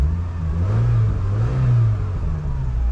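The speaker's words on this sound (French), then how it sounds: "Le moteur très nerveux," A 2000 Peugeot 306 SW 1.8 16v engine (XU7JP4) revs up and settles, then revs again, a deep, loud, close rumble rising and falling over a few seconds.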